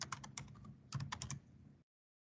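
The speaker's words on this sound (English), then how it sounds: "And we're going to type in web services." Keys clack on a computer keyboard as a search term is typed in Excel, two quick close bursts of keystrokes separated by a short pause, then silence, with no voices.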